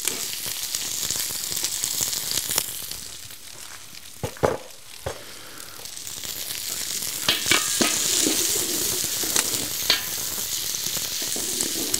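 Diced onion and garlic sweating in hot fat in a pot for goulash soup, a continuous close sizzle and hiss with occasional spoon knocks and stirring scrapes, no talking.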